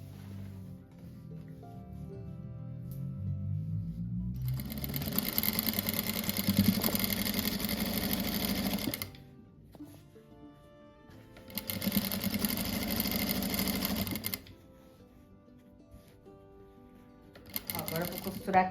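A sewing machine joins fabric blocks for a rug, running in three loud bursts of fast stitching separated by quieter pauses, with a voice talking at the start and between runs.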